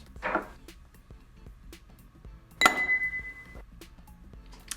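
A single ice cube drops into a glass with a bright clink and brief ringing, following a fainter knock earlier; otherwise quiet.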